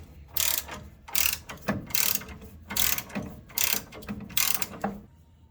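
A hand ratchet tightening a spring compressor during brake removal on a 1974 Pontiac 455 Trans Am, giving about six bursts of rapid clicking strokes separated by short pauses, close and alone.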